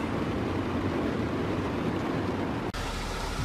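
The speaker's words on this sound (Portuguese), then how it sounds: "Tá chovendo aí, aqui tá chovendo." Heavy rain pours down on a car driving a mountain road toward Santander, Colombia, making a dense, steady hiss that stays loud throughout, with one brief dip near the end.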